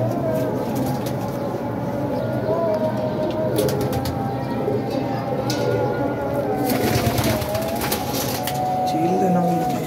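Teddy pigeons in a loft coo with low repeated calls, loud and close, under overlapping conversation among several people.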